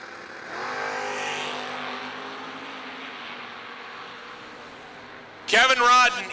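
A drag race pairs a Vega against the Browning Chevy II Nova at the Mini-Million. A sustained engine roar holds and slowly fades, then a sudden, much louder burst of revving hits near the end.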